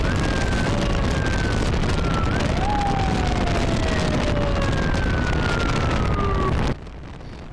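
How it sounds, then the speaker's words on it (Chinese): A police car siren wails steadily with rising and falling tones over loud, dense city traffic as the car escorts a vehicle along a rush-hour BRT route in Jinan, then cuts off abruptly near the end. "警车开道一路疾驰"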